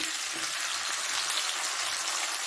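Chili paste fries in hot oil with nigella seeds, giving a steady, fairly soft sizzling hiss that holds evenly from start to end with no voices.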